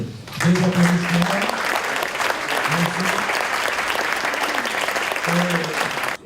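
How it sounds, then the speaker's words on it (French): An audience at a direct-selling federation congress breaks into sustained applause, a full wash of clapping with a voice speaking briefly over it at the start and again near the end. "Je crois que ça mérite des applaudissements."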